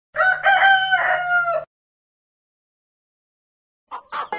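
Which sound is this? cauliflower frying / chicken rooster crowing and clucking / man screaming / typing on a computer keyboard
chicken rooster crowing and clucking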